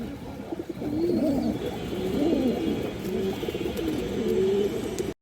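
Red Chulli pigeons, a big-size pair, coo in steady repeated low rolling calls, close and continuous with no talk over them.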